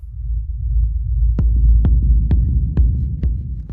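A steady low sub-bass throb runs throughout a dark techno track, joined partway by a punchy kick drum hitting five times at an even techno pace.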